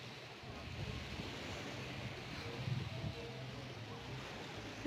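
Ocean waves at White Sands Beach, a beach with risky swimming, wash in as a low, steady, distant surf roar mixed with wind noise on the microphone, with no voices.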